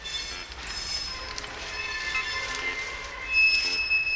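A train passes at a distance during outdoor metal detecting, a steady rumble with thin high wheel squeals. It grows louder toward the end.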